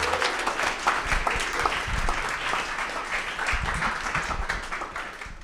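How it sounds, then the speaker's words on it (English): Warm, steady applause from an audience at a school photo challenge event, dense clapping running evenly for about five seconds without speech. "Let's give her a round of applause."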